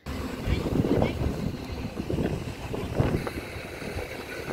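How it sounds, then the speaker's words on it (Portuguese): Strong, cold wind blows along the seafront shopping area at Nazaré, making a steady, loud low rumble and buffeting against the microphone for the whole stretch. "está um vento ainda bem forte e frio"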